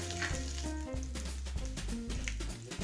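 Chopped curry leaves sizzle loudly in a spoonful of hot oil with mustard seeds and cumin, a continuous close crackling fry with some faint stirring and no talking.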